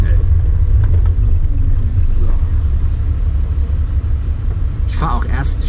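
A Mercedes W111 Cabriolet drives at the Bosch Boxberg Klassik event, its deep engine and road rumble steady and loud from inside the car while people talk over it.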